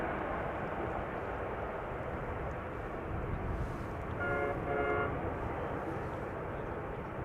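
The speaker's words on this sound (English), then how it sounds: "that was a strange horn that we heard" A strange two-tone horn from an unidentified vehicle sounds in two short nearby blasts across a steady roar of rumbling airport traffic at Amsterdam Schiphol.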